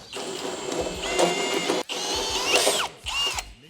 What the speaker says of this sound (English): 32mm drill bit